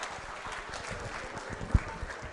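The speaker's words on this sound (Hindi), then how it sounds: "तालियां जोरों से बजाइए मैम के लिए" Audience applause at a school quiz show, a short, soft stretch of many hands clapping at a distance, with one sharper thump near the end.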